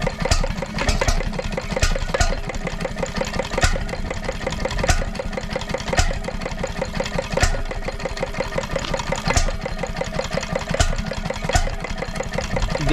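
A 1927 Petter M 'Apple top' 5 HP stationary engine runs with a regular thumping beat, firing in evenly spaced strong pulses over a clattering mechanical idle, loud and close with no voices.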